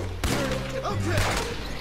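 Gunfire in the video game Red Dead Redemption 2: a couple of sharp, booming shots ring out in quick succession amid game sounds, close and loud.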